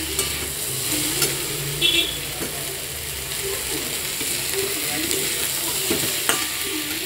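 Cauliflower and potato being stir-fried in a pan give a continuous close sizzle, broken by repeated scraping strokes of a spatula, with no one speaking.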